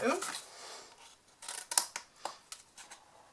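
Scissors snip wedges from a paper template for a surprise-opening chocolate box, a handful of sharp close cuts spaced unevenly, with a voice talking faintly over the first moment.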